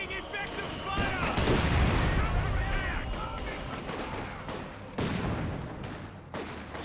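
Rocket artillery barrage in a World War II strategy game, a dense rapid string of booming blasts and crackling impacts with a few sharp later hits, while a commentator talks throughout.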